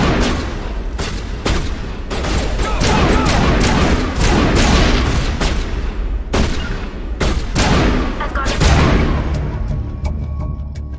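Dense, loud gunfire rattles in a Mass Effect firefight, rapid overlapping shots and heavy booming blasts keeping up almost without pause, close and alone with no voices.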